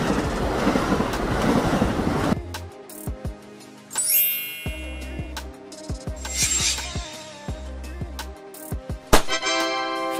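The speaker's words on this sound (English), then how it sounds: "Amtrak train refers to trains operated by Amtrak, the National Railroad Passenger Corporation in the United States" An Amtrak passenger train roars by in a loud wash of noise for a couple of seconds, then gives way to a series of sharp tonal blasts and ringing notes that rise and fall.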